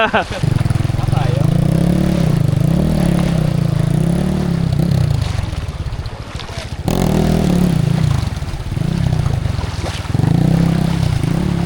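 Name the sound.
200cc motorcycle engine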